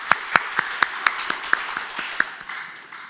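A church congregation gives applause for a choir member, with a steady run of distinct, evenly spaced claps standing out over a softer bed of many hands clapping that fades slightly toward the end.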